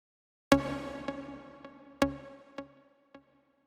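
A synth playing sparse struck chords, four or five hits over a few seconds, the first with a long reverb tail and the later ones drier and shorter as the reverb is automated down, alone with no talk.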